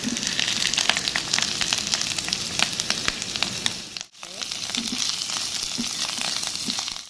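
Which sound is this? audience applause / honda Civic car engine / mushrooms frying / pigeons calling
mushrooms frying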